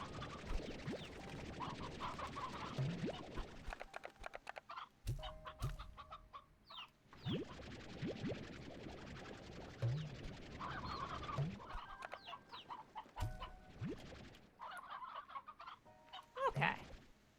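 Chickens clucking in the video game Slime Rancher 2, a flock of game-animal clucks and squawks repeating in bursts over a busy background of game sounds, fairly quiet throughout.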